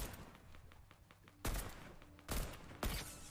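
Fortnite gunfire crackles in three sharp bursts over a dense, faint background of distant battle noise.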